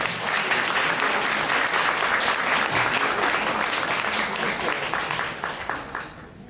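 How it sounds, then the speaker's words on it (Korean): A crowd of wedding guests applauding steadily and loudly in a wedding hall, dense clapping that carries on for several seconds before tapering off at the end. "큰 박수 부탁드립니다."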